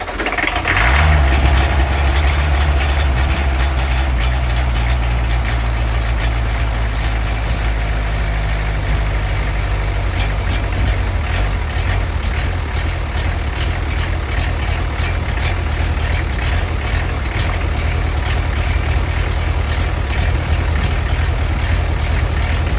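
A John Deere skid steer engine runs steadily close to full throttle, a loud, close, continuous heavy diesel drone with a deep low rumble that holds unbroken throughout.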